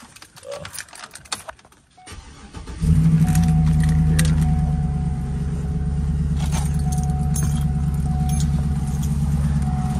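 Keys jangle briefly before a Cadillac's engine cranks and catches around three seconds in, then settles into a loud, steady idle that runs to the end.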